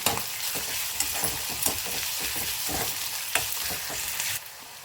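Chopped onions fry in a pan until golden, giving a loud continuous sizzle with repeated scraping stirs from a spatula, close and steady, no voices.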